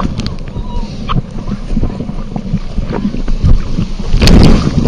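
Sea waves lap at the shore beside a pier at Eforie Nord on the Black Sea, a close, gusty wash of water and wind, building to a louder splash near the end.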